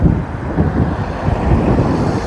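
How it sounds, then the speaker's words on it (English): Gusty wind buffets the microphone outdoors beside a Kia EV6 GT Line, a steady loud low rumble that swells and dips throughout with no speech. "Oh, it is windy."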